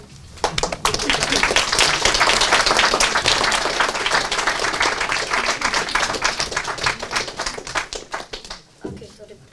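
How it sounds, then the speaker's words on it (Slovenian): An audience at an improv theatre show breaks into loud, dense applause that swells quickly, holds for several seconds, then thins out and stops. "dajte mu en velik aplavz za začetek"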